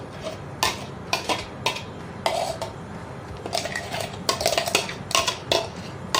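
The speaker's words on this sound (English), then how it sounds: "now we'll add our wet ingredients, that is a butter, sugar and egg into this. scoop it all in." Butter, sugar and egg are scooped into a bowl of mashed banana for a peanut butter banana cake, with repeated close spoon clinks and scrapes against the bowl at an irregular pace and no talking.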